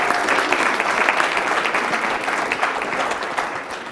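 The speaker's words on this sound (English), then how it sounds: "Let's give him a big round of applause." An audience at a school district safety forum gives sustained applause for the evening's moderator, a dense, even clatter of many hands that holds steady for several seconds and tapers slightly toward the end.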